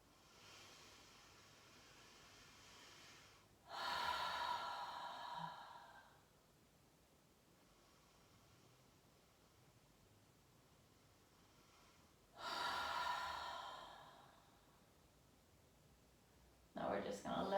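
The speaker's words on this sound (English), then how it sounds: "Inhale through your nose. Exhale through your mouth." Deep breaths during a yoga class, each drawn in through the nose and let out through the mouth, come as two long, soft, airy swells several seconds apart, with a quieter breath beginning at the end.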